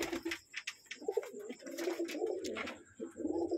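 Pigeons at a home pigeon farm give repeated soft, throaty coos in short bursts, close by, alongside a few faint chirps and rustles.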